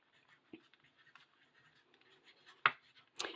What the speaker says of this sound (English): on this bumpy part of your plate, you're going to write your first name and your art code